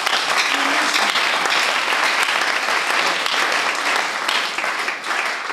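A congregation at a church leaders' conference bursts into sustained, loud applause that fills the whole stretch, steady and dense with many hands clapping at once, no talking over it.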